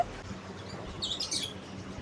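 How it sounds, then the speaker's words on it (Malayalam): A few quick, high bird chirps in a short cluster over a quiet outdoor background near a house in Bahrain, fairly faint and somewhat distant. "അപ്പോൾ ഇവിടെ വരുമ്പോൾ കണ്ടോ നല്ല കിളികളുടെ സൗണ്ട് ഉണ്ട് അല്ലേ"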